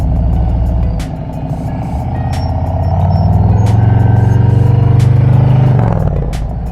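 During an advanced rider training course, a motorcycle pulls away from a stop into a turn. Its engine idles, then climbs to a louder, rising rev before easing off near the end.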